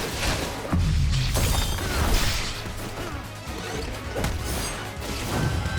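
Explosion in the video game Shinobi: Art of Vengeance, a loud crashing burst followed by more smashing impacts and debris clatter, with game sound effects around it.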